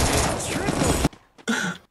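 Gunfire in a battle royale video game, a loud burst of rapid shots filling the first second, then a short gap and another brief burst, with players talking over the game.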